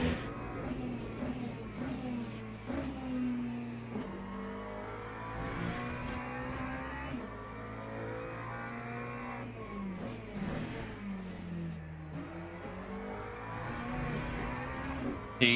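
A race car engine in the racing game Le Mans Ultimate revs and shifts repeatedly, rising and falling in pitch as it accelerates, loud and continuous throughout.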